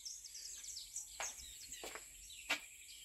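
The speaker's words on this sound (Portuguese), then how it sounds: "Muito passarinho." Birds chirp around an abandoned rural house, several short, faint calls scattered over a quiet background with a steady high insect-like hiss.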